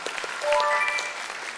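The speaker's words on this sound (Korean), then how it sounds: "박수 한번 부탁드릴게요." Applause from a student audience at a high school quiz event, a steady wash of many hands clapping for under two seconds with a few bright whoops or whistles rising above it.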